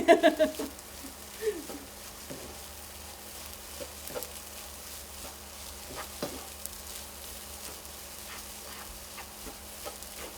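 Rice fries in a hot pan with a soft, steady sizzle and scattered crackles, plus a few louder clatters at the start, while a voice speaks faintly in the background.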